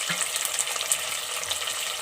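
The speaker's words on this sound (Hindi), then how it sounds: "1 से 2 मिनट हल्का सा आलूओं को भूनेंगे।" Cubed potatoes fry with onions in a pan, a dense, steady close sizzle with faint crackles throughout and no voices.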